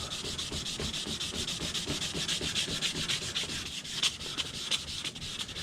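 Sandpaper rasps back and forth over the steel blade of a handmade horseshoe knife in quick, even strokes, close and fairly loud, with no speech.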